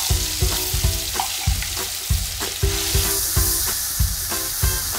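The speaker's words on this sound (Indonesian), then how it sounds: "Tumis bumbu halusnya," Ground spice paste sizzles loudly in a hot pan while being sautéed for a snail dish, with rhythmic stirring knocks every half second or so and a steady frying hiss under them.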